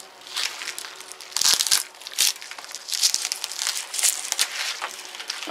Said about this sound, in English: Not very good scissors, though,